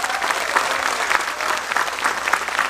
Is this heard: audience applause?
yes